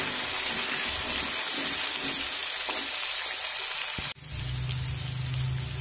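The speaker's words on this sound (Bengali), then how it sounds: "পরিমাণ মতো লবণ আর একটু হলুদ দিয়ে মিডিয়াম ফ্লেম করেই কিন্তু ভাজতে হবে" Cauliflower frying in a pan with salt and turmeric over a medium flame: a steady, bright sizzle and hiss throughout, with a brief dip and then a fuller, louder frying sizzle near the end, no talking.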